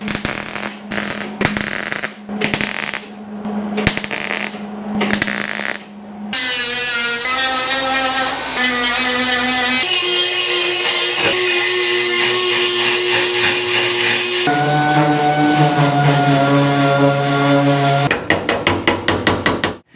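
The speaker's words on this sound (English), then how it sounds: "You saw me in there grinding and sanding and getting everything there." Rust repair on a 1953 GMC cab: sharp hammer-like knocks at first, then a loud sustained whine of a grinder and sander on sheet metal, changing pitch as the tool loads and frees up, cutting off abruptly.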